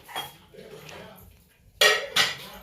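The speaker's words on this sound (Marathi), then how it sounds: "आता मामी आम्ही कुकर ठेवते" A pressure cooker and metal pots being set down in a home kitchen, two sharp loud metallic clanks close by near the end after quieter handling sounds.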